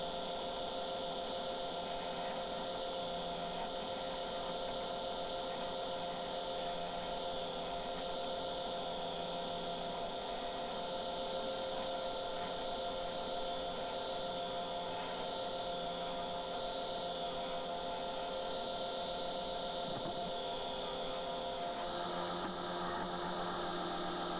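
A wood lathe spins a hawthorn workpiece at a steady, decent speed, giving a constant humming whir with a faint rubbing rasp from tool contact running through the clip, close and without talk.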